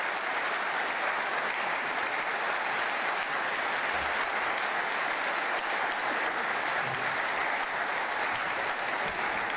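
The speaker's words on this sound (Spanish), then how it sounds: "Señoras y señores, recibamos con un fuerte aplauso entonces" Strong, continuous applause from a congress audience welcoming a speaker to the stage, a dense wash of many hands clapping at steady volume throughout, with no voices above it.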